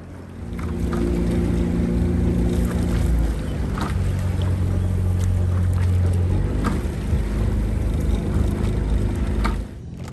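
Several fast boats on open water roar past in a steady, loud engine drone with wind and water wash, holding for most of the stretch before easing off near the end.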